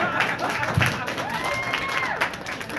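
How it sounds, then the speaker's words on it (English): An open mic audience applauds, a moderate patter of clapping from a smallish crowd that stays fairly even, with voices talking over it. "Guys are a really clappy crowd."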